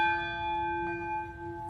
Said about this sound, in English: let me do a bell dong